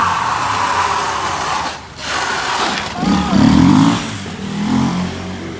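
A Honda XRE motorcycle revs hard during a wheelie on a street, its engine note rising and falling through several surges, with a brief dip before climbing again, loud and close.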